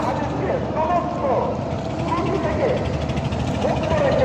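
A small river boat's engine at Sadarghat at night runs close and loud in a steady droning rumble, with voices talking over it.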